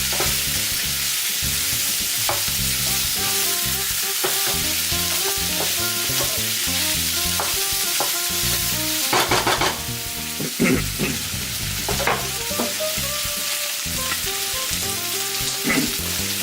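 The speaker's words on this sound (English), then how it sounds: "now the Goya has been fried off a bit, the tofu can go back in. Now to stir to get everything evenly distributed." Bitter melon (goya) and tofu are stirred in a hot frying pan, giving a steady loud sizzle throughout with scraping and clinks of the utensil against the pan at irregular intervals.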